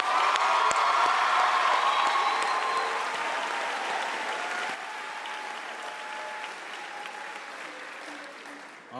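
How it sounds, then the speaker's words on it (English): A graduation audience applauds and cheers the class of 2025 at a commencement ceremony, a dense, steady wash of clapping with scattered whoops that slowly fades over about nine seconds. "can I get a huge round of applause for class of 2025?"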